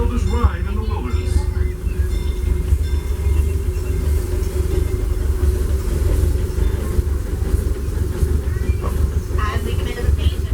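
Disneyland Railroad steam train, the Fred Gurley No. 3 pulling excursion cars, rolls into a station with a steady low rumble and clatter. Loud and close from on board, with squeaks and a faint hiss over the din.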